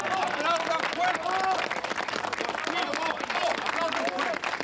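A crowd applauds with dense, continuous clapping mixed with excited voices and babble, loud and sustained throughout.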